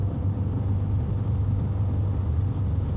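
A 2022 Subaru WRX with an ETS aftermarket exhaust cruises at 3000 RPM in sixth gear on the highway, giving a steady, low droning rumble heard from inside the car with no voices.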